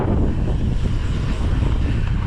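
Strong gusty wind roaring across the microphone at a bike park, a steady, loud, low rumble that fills the whole stretch, with no voices.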